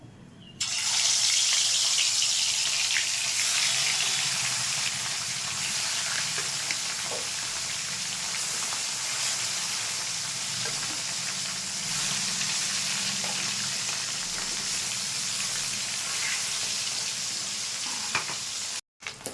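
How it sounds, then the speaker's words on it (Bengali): Katla fish fries in hot mustard oil in a wok, giving a loud, steady, close hiss of sizzling that holds for nearly twenty seconds with faint crackles and no talk, then cuts off abruptly. "তেলটা গরম হয়ে গেছে, মাছটা ভেজে নেব।"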